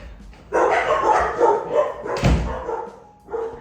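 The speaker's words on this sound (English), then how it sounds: "you hear all them dogs?" Several dogs barking loudly and close by, a burst of overlapping barks with a short pause before one more bark.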